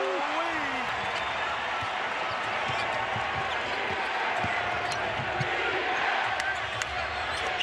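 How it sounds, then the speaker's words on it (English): Crowd noise fills a Portland basketball arena during a Heat–Trail Blazers game as a steady, loud roar, with sneaker squeaks and ball bounces coming through and a commentator talking over it. "Listen at this crowd."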